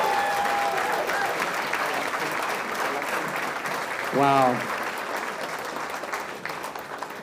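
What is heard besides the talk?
audience applause at a scholarship dinner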